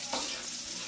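Onion frying in a pan for squid adobo, a short burst of loud, steady sizzling with a sharp hiss at the start.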